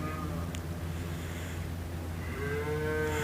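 Calves being weaned bellowing inside an old barn, a few long moos carrying from down the stairs, fairly distant and moderate over a steady low background hum.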